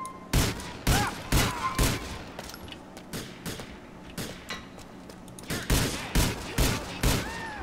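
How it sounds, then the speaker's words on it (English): Police gunfire in GTA IV online: repeated sharp, loud shots in irregular bursts, with a cluster near the start and a rapid run of shots near the end. "that's a cop shooting me"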